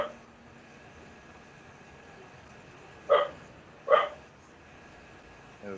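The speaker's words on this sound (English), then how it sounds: "I can hear a dog barking in the background." A dog barks twice in the background of a home during an online teaching call, two short, fairly faint yelps less than a second apart, with no talk in between.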